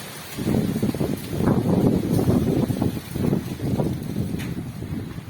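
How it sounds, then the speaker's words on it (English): Strong gusty wind during a dust storm in Hyderabad, Sindh, Pakistan, buffeting the microphone, a loud rumbling roar that surges and eases in waves for several seconds. "Wow, that's windy."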